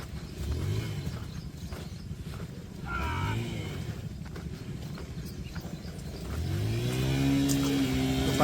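A car stuck in a village track revs its engine repeatedly, rising surges that strain and fall back, growing louder near the end over steady outdoor background noise.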